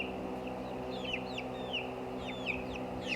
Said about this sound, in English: This is Kylo Hen